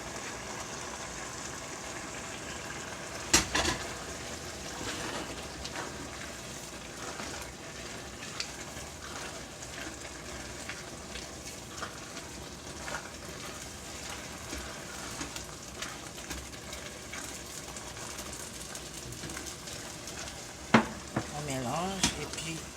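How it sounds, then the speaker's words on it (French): Spinach being stirred and mixed in a cooking pot, a faint steady sizzle of frying with occasional soft scrapes and clinks of a utensil against the pot, low and continuous throughout. "Je prends tout, je mélange avec notre épinard."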